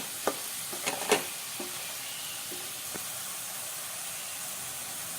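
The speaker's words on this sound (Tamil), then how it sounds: "இது நல்லா வதக்கி விட்டுடலாம்" Chopped vegetables, spinach, corn and capsicum, sizzle steadily in a hot pan under a constant hiss, with a few quick scraping stirs of a spoon near the start and sparse clicks after.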